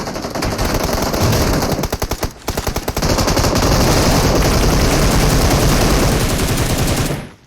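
Rapid, loud, continuous automatic gunfire in the mobile battle royale game PUBG Mobile, rattling almost without pause for several seconds with a brief gap midway before cutting off.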